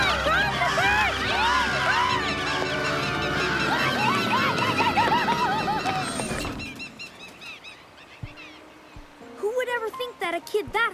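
Cartoon birds crowd around a bus, squawking and honking in a dense, loud flock that cuts off abruptly, leaving scattered thuds and a few later squawks.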